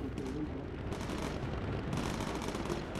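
Bomber turrets firing at enemy fighters in the Bomber Crew game, a steady low rumbling barrage of rapid gunfire under engine drone, fairly quiet and continuous.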